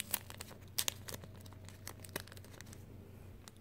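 Paper happy-mail package holding a vintage Christmas flipbook being carefully opened, with quiet, close crinkling and small tearing rustles in soft intermittent bursts, no voices.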